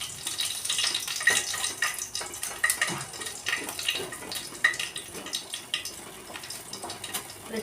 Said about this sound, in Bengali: একটা শুকনো লঙ্কা ফোড়ন দিয়ে দিলাম